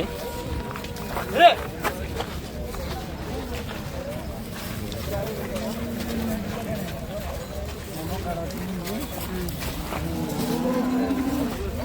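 Cattle at a busy livestock market, with a sharp moo early on and a constant crowd murmur, footsteps and shuffling animals throughout, while people talk nearby.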